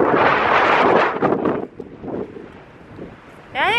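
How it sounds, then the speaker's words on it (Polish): Strong wind blasts across the microphone at Balos Lagoon on Crete, roaring loudly at first, easing to a lower buffeting rush, then gusting hard again at the end. "Musimy iść tam, gdzie nie ma takiego wiatru."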